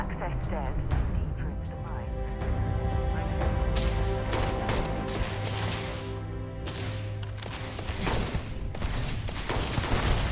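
Gunshots in Starfield, scattered sharp cracks clustering in the second half over game ambience, with people talking throughout.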